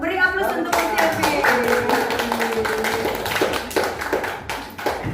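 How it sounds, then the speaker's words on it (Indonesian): Applause for Miss Silvi from a group of teachers at a school event, a steady patter of many hands clapping throughout, with a voice talking over the clapping. "Hebat, beri aplaus untuk Miss Silvi."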